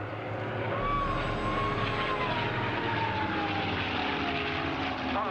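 A P-51 Mustang propeller fighter flies at the Duxford air show, its engine a steady loud drone with a slowly shifting pitch as it passes, heard alone over the open airfield.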